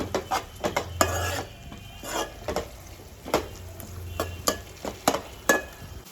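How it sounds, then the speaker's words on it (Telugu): Green chillies stirred into a pan while cooking Nellore-style fish curry, a spoon scraping and clinking against the pan in quick irregular strokes over a faint sizzle, close up with no voices. "పచ్చిమిర్చి వేసుకుంటున్నాం. మిక్స్ చేద్దాం."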